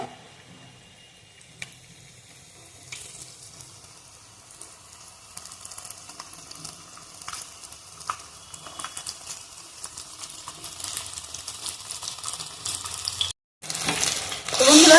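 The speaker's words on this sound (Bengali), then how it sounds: "এভাবে আমি সবগুলো রেডি করে অল্প অল্প করে ভেজে নেব" Chicken leg lollipops fry in hot oil, a continuous crackling sizzle with scattered pops that grows louder and denser, broken by a brief gap before a loud close burst of frying.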